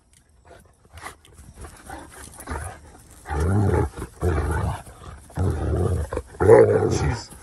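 An Irish Wolfhound gives loud, deep barking growls in several strong bursts over the second half, after quieter rumbling sounds at the start.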